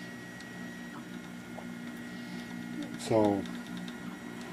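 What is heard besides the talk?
Anet A8 3D printer printing a layer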